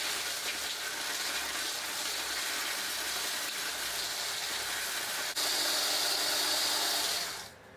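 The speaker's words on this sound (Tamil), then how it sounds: "இப்போ இதை நம்ம ஒரு பிளெண்டர் இல்லைனா மிக்ஸி ஜாரில் போட்டு இதை நல்ல ஒரு ஃபைன் பவுடராக அரைச்சிக்கலாம்." A mixer grinder jar whirs continuously at high speed, milling ingredients for a no-oven chocolate cake into a fine powder, a steady close roar that rises in pitch briefly before cutting off at the end.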